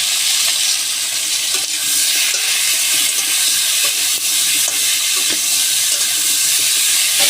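Potatoes fry in hot oil with salt and turmeric, a steady dense sizzle and hiss that continues throughout at close range.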